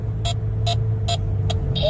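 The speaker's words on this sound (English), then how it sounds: "I'm going to show you traffic again. This is miles back." Slow, backed-up road traffic heard from inside a car: a constant low engine and cabin drone with a regular sharp ticking about twice per second.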